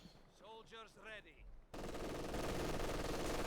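MG42 machine gun firing in the WWII strategy game Company of Heroes 2 as a dense, continuous rattle that cuts in abruptly halfway through and stays loud to the end, after brief synthetic tones and effects.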